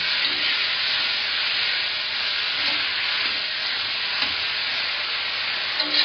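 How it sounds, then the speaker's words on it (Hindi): Vegetables for matar paneer sizzle and hiss steadily in a pan while being stirred, a close continuous frying sound with faint scraping. "थोड़ा फ्राई करेंगे इनको"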